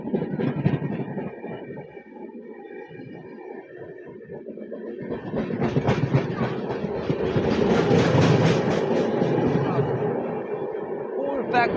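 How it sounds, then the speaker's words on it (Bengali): A packed Janmabhoomi Express passenger train between Visakhapatnam and Lingampalli rolls past close by, its wheels clattering over rail joints and the rumble swelling louder toward the end, with a voice talking over it. "জন্মভূমি এক্সপ্রেস।"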